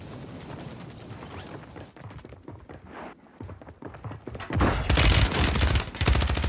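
Automatic gunfire in Warzone 3 on Rebirth Island, sporadic shots and footsteps building into a loud, sustained burst of rapid fire near the end.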